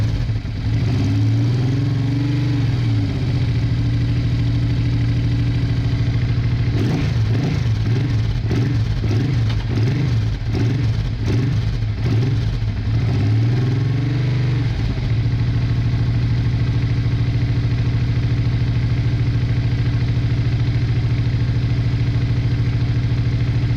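Honda Bros motorcycle engine idling steadily on both cylinders after a cold start, a close, continuous low throb with a few blips of revving in the middle and no talking.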